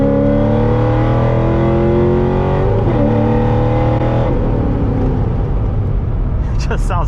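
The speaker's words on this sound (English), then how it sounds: "I love this exhaust." A C6 Z06 Corvette with a big cam rumbles and revs loudly with a deep, throaty exhaust note, pitch sweeping up and down, close and continuous throughout.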